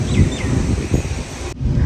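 Steady broadband wind noise rumbles and buffets across the microphone, with a rustling, gusty texture, cutting out abruptly near the end.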